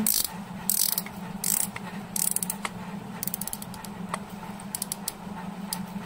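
A clicker on the drag of a Shimano Antares DC MD fishing reel gives quick bursts of small ratcheting clicks as the drag is tightened. The clicks are close and fairly faint.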